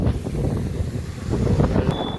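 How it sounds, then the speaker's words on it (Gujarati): Strong gusting wind buffets the microphone outdoors in an area hit by flooding, a steady low roar that swells and dips across the clip with no talk. "પવન ઉપડો હોય ફૂલ એકદમ."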